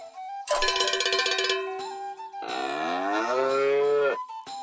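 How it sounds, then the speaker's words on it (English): A cartoonish cow moos in South Park: The Stick of Truth, a loud drawn-out bellow with a clanking cowbell-like burst before it, set against game background sounds and no talk. "We're gonna fight a cow?"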